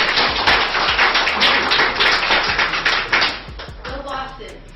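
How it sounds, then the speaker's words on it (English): Applause breaks out in a courtroom as defendants greet the returning judge, a dense burst of overlapping claps that gradually thins out and fades over several seconds. "he was met with applause and cheers from the defendants."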